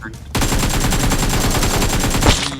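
Video game gunfire, a sustained rapid burst of automatic shots, loud and close, running for about two seconds after a brief quiet start.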